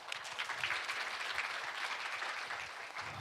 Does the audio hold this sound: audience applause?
yes